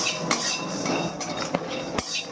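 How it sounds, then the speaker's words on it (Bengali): Whole spices dry roast in a hot kadai while a spatula stirs them, giving close metallic clinks and scrapes a few times over a low, steady background. "এবার আমি এই যে পেপার মশলাগুলোকে সব একে একে ভেজে নেব, রোস্ট করে নেব।"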